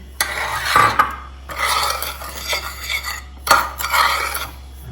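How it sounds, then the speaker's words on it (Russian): Dry scraping and rasping of a spoon stirring sugar and cocoa powder in a saucepan for glaze, in three bursts separated by short pauses, close by. "Сахар с какао мешаем в кастрюле."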